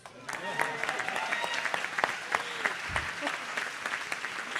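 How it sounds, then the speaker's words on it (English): Audience applause at a charity gala for a Crohn's and Colitis foundation, steady dense clapping filling the room throughout with scattered voices and cheers mixed in. "Give her a big round of applause, ladies and gentlemen, if you will."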